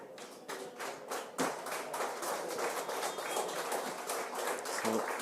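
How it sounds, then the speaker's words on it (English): Applause at a senior hurling championship match between Kilnadeema Leitrim and Beagh Galway as substituted players leave the field, a thin, distant scatter of claps and taps from a small crowd outdoors, steady and moderately faint. "A round of applause for the Kilnadeema Leitrim men that are being taken off"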